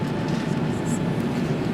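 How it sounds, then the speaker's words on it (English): A train rumbles along a line in Manila, a loud, steady low roar heard from on board, with faint voices in the background. "So that's life in Manila, traveling on a train."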